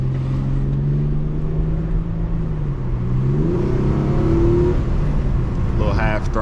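Stock Infiniti G35 HR engine at half throttle, a loud steady drone that climbs in pitch as it pulls, heard from inside the car with faint talk beneath.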